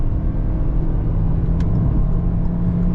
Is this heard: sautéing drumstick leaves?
no